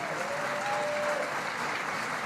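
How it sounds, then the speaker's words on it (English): An audience at a political tax reform rally in Cincinnati, Ohio claps steadily, a dense, even wash of applause filling the hall with no breaks. "Give him another round of applause, would you?"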